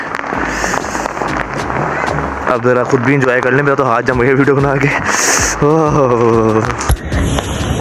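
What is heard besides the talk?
New Year fireworks going off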